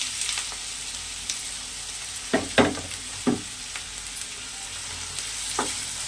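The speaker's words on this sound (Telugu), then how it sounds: "ఆయిల్ కాగిన తర్వాత ఉల్లిపాయలు వేసుకోవాలి" Chopped onions frying in hot oil in a kadai, a continuous bright sizzle with a few louder spatters and scraping stirs, close and steady with no talk.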